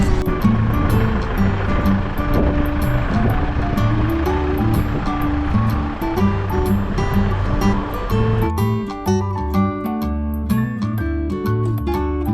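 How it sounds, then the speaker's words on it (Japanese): Steady rushing water sprays continuously from a shower running close by in a camping trailer, with a dense wash of noise and some faint background tones throughout. "トレーラーでシャワーします。"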